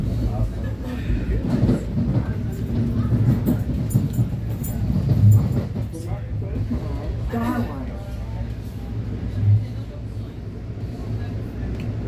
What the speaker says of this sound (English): This little train ride out into New York.